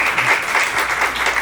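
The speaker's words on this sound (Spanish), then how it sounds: "Un aplauso, por favor." Applause at a commemoration in Cuernavaca, a dense steady patter of hands from a gathered audience lasting briefly at even loudness.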